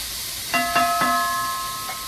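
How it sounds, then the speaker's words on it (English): Carrots, garlic and onions soften in a pan with a steady low hiss, while a few bright metallic clinks from a utensil against the pan ring out near the start and once more near the end. "So I'm going to soften my carrots, garlic, and onions just a bit."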